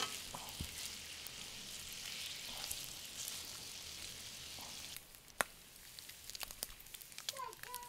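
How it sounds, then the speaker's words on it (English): Bacon frying in a pan on a griddle, a steady hiss and crackle that runs for about five seconds, then drops away, leaving scattered pops and light clinks. "I am ready to start cooking some bacon"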